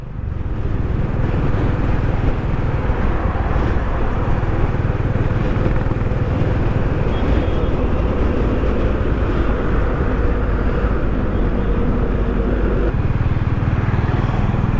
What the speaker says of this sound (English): my first impression is it has got a beautiful exhaust note